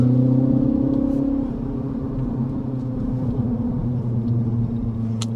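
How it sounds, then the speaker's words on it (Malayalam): A last-generation Mini Cooper S petrol engine rumbles loud and close, holding a deep, steady idle after starting, with a slight dip in level partway through and no speech. "നമ്മൾ ഇങ്ങനെ ട്വിസ്റ്റ് ചെയ്താലാണ് വാഹനം സ്റ്റാർട്ടാവുന്നത്. ആ ഒരു റോർ നമുക്ക് കേൾക്കാനായിട്ട് സാധിക്കും."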